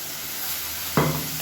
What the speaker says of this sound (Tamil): இப்போ மீடியம் சைஸாக ஒரு 2 தக்காளி மிக்சியில் அடித்து சேர்த்துக்கிறேன்